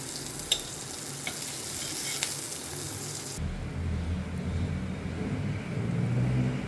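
Green beans fry in a pan for a lemon butter garlic salmon dish, giving a steady close sizzle with a few stirring clinks. Partway through, the frying grows into a louder, fuller, lower hiss.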